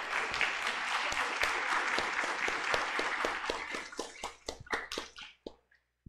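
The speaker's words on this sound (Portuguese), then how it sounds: "vamos dar uma salva de palmas para elas" A church congregation at the close of a Sunday celebration bursts into sustained applause, dense clapping that holds steady before thinning into scattered last claps and fading to silence.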